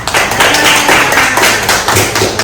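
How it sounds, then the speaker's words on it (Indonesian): Students clapping in a classroom for a classmate, loud close rhythmic claps from a small group in quick succession lasting a couple of seconds. "Tepuk tangan dulu buat Indah"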